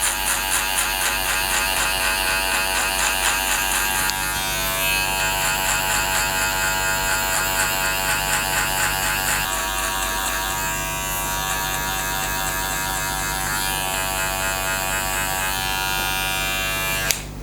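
Electric hair clippers with a number 2 metal guard cut a fade, buzzing loudly and steadily right up close, with slight changes in tone as the blade moves through the hair.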